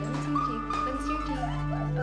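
A dog at a veterinary clinic gives soft whimpers and yips, close by and steady, over a faint background hum.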